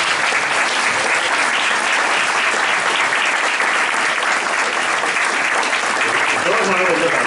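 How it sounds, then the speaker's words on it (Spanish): A conference audience gives sustained, loud applause, a thick wash of many clapping hands holding steady throughout, with a voice faintly emerging near the end. "Entonces dense un aplauso, que es lo único que puedo pedir."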